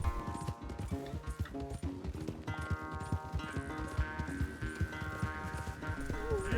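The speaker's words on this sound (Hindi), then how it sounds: "चल दौड़ा ले आर्थर इस घोड़े को" A horse gallops in Red Dead Redemption 2, hooves drumming in a fast, steady rhythm up close, with a sustained musical score playing underneath throughout.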